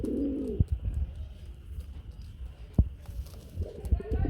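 A male Mayna jak pigeon gives a short cooing call, close and clear, then falls quiet before cooing again near the end, with faint background rustle and no talk over it.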